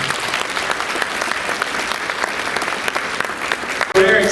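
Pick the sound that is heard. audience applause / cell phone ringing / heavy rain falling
audience applause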